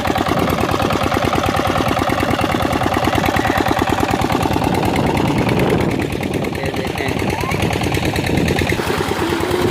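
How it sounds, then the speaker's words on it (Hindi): A tubewell pump engine runs loud and close, its rapid, steady chugging knock repeating evenly for the whole stretch, with a voice speaking over it partway through. "ये ट्यूबवेल चल रहा है, ये इसका इंजन है।"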